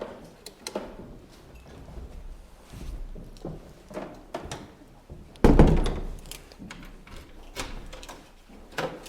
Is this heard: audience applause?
no